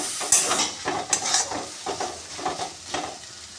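Spices for a potato and jackfruit curry stir-fried in a pan, close-up crackling sizzle punctuated by several scraping stirs of a spatula, fairly quiet, with no voices.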